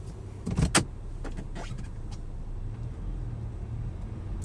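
Steady low rumble of a car interior on a rainy day as the drive begins, with a short cluster of clicks and a brief mechanical whir near the start, then an even, continuous road hum.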